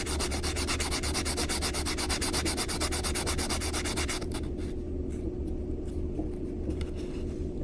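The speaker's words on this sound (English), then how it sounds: "I'll spin them around just to make sure they're sanding evenly." Coin rings have their cut edges sanded on a filing board, a steady continuous rubbing and grinding loud throughout, close up, the high scratchy hiss easing partway through while the rubbing keeps on.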